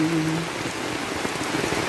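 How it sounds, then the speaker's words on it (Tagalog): Heavy rain drums steadily on an open umbrella, a dense close patter that holds constant throughout, with a brief hum of a voice near the start. "Lakas ng ulan, oh."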